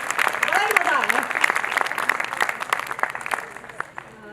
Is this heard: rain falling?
no